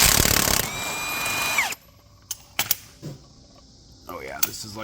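A power tool briefly whirs loudly up close, removing a bolt from the primary clutch of a snowmobile-swapped Honda Pilot. Metallic clicks and handling clatter follow in a quieter stretch.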